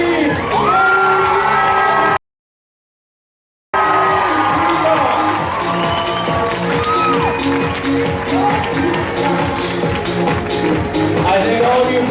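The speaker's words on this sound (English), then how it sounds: "give the biggest, loudest round of applause in the world" Crowd at a bike-a-thon event cheering, whooping and shouting for bowing performers, loud and continuous with children's yells mixed in, broken by a brief silent gap before the roar resumes.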